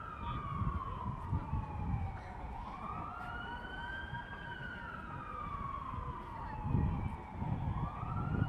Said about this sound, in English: The siren noise really didn't match the peaceful vibe of the park.